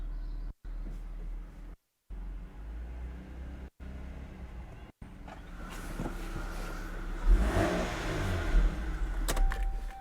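Toyota Soarer recovered after ten years of neglect: a steady low car hum at first with brief dropouts, then a louder, rougher engine rise toward the end, heard close and alone without speech.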